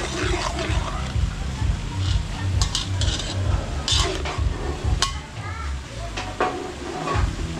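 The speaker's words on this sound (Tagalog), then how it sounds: "pinrito namin sa butter. So, may konting mantika." Pork fries in butter with a little oil in a catering kitchen, a soft sizzle under repeated scraping and stirring of a utensil in the pan, with some voices nearby.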